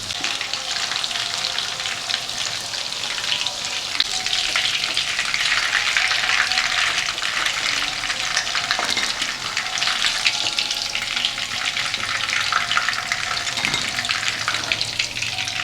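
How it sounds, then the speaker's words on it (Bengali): Chicken pieces deep-fry in hot oil for dry chilli chicken, giving a steady, loud, dense crackling sizzle that runs unbroken for about sixteen seconds, with no voices. "এখানে সমস্ত চিকেনটা ভাজা হয়ে গেছে"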